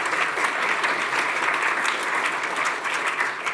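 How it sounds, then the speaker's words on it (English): An audience at a policy event applauds its speakers, a steady wash of many hands clapping close and loud throughout without letup. "a clap for our speakers."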